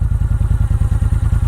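A 2010 Moto Guzzi V7 Cafe V-twin engine idles close up, its exhaust producing a loud, even, lumpy thumping pulse with rapid regular beats and no talk.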